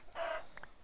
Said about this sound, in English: I just want to kill all these chickens a second